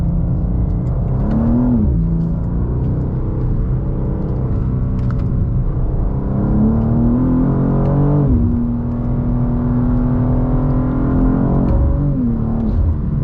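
A 2024 BMW M2 engine roars and revs continuously, rising and falling in pitch as the driver accelerates hard and eases off through a series of turns.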